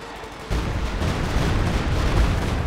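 Artillery barrage in the World War II strategy game Company of Heroes 2, a dense rumble of distant booms and blasts that starts suddenly after a quiet half second and continues steadily without talk.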